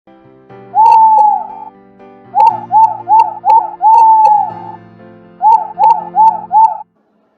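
An owl hoots repeatedly and loudly, long hoots mixed with quick runs of shorter ones, clear and close with nothing else around.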